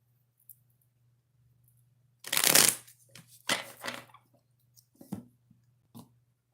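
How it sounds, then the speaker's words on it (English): A deck of cards riffles in a loud burst, followed by a few shorter shuffling bursts and soft taps, close up in a quiet room. "Let's do a couple of shuffles"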